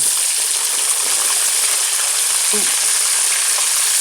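Chicken frying in a pan, a loud, dense, continuous hiss of sizzling oil up close, with a brief faint clink as the pieces are flipped.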